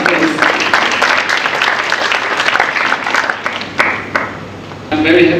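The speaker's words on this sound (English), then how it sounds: "can we give him a hand of applause?" Loud, dense applause from an audience at a 40th jubilee celebration for DED-Ghana, a steady wash of clapping that dips briefly and then swells again.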